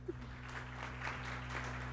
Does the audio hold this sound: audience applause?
yes